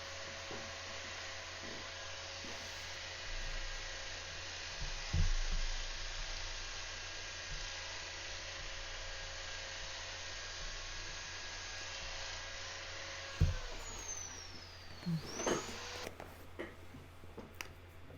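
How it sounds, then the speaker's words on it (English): A power sanding disc working the outside of a mulberry crotch wood bowl, a steady close whir with rubbing friction that shifts in pitch as the disc tilts, then winds down near the end. "I'm twisting the sanding disc from flat to sideways on the sides of the bowl"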